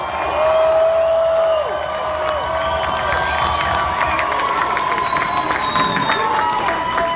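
A large crowd at a hip hop concert at the Observatory cheers and shouts loudly in a reverberant space, with whistles and scattered clapping in a continuous roar.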